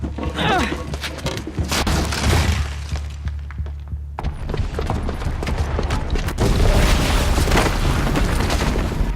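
Bomb explosion in Horizon Zero Dawn, with heavy booming blasts and shattering debris, a brief lull, then a sustained loud roar of crumbling and rumbling, loud throughout.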